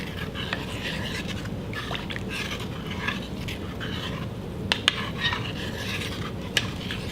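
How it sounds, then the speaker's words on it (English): Utensil clinks and scrapes against a crock pot as bourbon chicken sauce is stirred, with occasional sharp taps over a low bubbling background. "And then just give it a stir."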